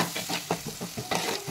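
Turmeric and ginger garlic paste get stirred into frying onions for mutton curry, with quick, close scraping strokes of a spoon against the pan in a rapid rhythm over a soft sizzle. No voices.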